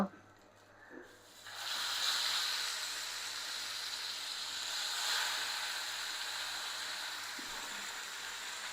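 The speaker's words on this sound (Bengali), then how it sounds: "এখন আমি ইলিশ মাছটা দিয়ে দেব" Hilsa fish frying in mustard oil, a quiet start that swells into a steady hissing sizzle, heard fairly close and continuing evenly with a faint low hum beneath.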